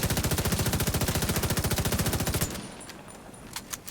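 Rapid automatic fire from an F2000 assault rifle in The Division 2, a fast even stream of loud, close gunshots lasting about two and a half seconds before cutting off, followed by faint clinks and a quiet tail.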